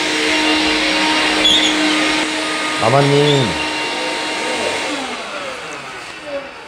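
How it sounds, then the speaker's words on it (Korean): A vacuum cleaner runs indoors as a steady whining drone throughout, with a brief voice cutting in partway. "청소기 소리가 들리네요."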